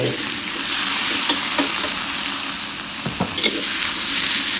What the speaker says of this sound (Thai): พริกหอมได้ที่เราก็จะใส่ปลากระพงลงไป